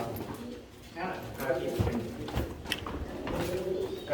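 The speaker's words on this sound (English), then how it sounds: "I can hear pigeons." Pigeons coo softly at an old Khmer stone temple in Thailand, low murmuring calls repeating in the background while a person talks nearby.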